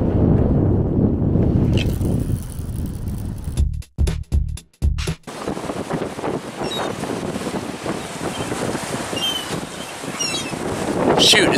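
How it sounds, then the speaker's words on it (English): Strong gusty wind buffets the microphone in loud, roaring bursts, briefly cutting out and returning, with faint chirps high above the rumble. "Shoot, it's gotten super windy out."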